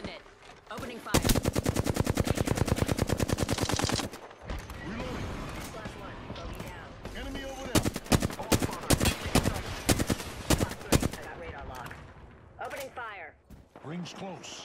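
Bursts of rapid automatic weapon fire in Apex Legends, a long sustained volley followed by choppier bursts and single shots, loud and close, with game voice lines and a player talking in between.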